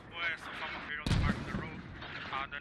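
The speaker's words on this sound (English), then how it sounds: "And mortars landing very close to this HAB." Mortar shells land and explode near a base in a military shooter game, a sharp loud blast in the middle among scattered distant gunfire and rumbling battle noise.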